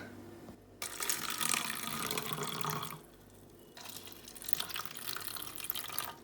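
Tap water running and splashing into a kitchen sink while a gardener prepares seed cups, two bursts of rushing flow separated by a short quiet gap, close and fairly loud.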